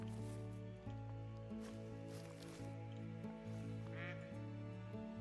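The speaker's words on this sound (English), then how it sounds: "I hear a duck." Faint duck quacks in the Call of the Wild hunting game, set in the Yukon Valley, sit low beneath a steady, droning ambient tone.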